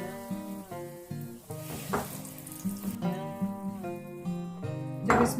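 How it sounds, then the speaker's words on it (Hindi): Broken jaggery hits hot oil flavoured with cardamom in a pan and sizzles, a soft crackle sitting beneath background music. "अब इसमें मैं गुड़ को ऐड कर रही हूँ।"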